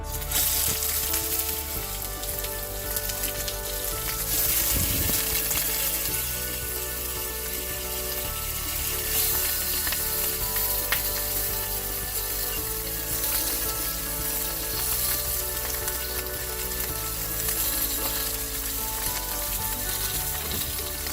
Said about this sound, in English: The first step is to brown our oxtail.